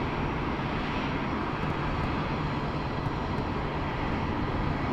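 Airliner landing on runway 34 left at Sydney Airport, a steady, loud broadband engine roar that holds constant throughout with no voices over it.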